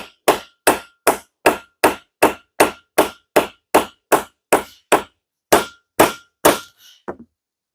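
A hammer strikes a rivet being set on a leather sheath, about fifteen sharp, loud, evenly paced blows close by, slowing slightly near the end before a final light tap and silence.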